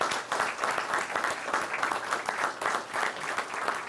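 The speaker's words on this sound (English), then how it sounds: "And I think that deserves a round of applause." An audience at an official economic development announcement applauds: dense, steady clapping from many hands at a moderate distance, sustained for the whole stretch.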